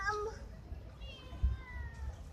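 A cat gives a couple of short meows close by, one at the start and a fainter one later, over a low indoor rumble.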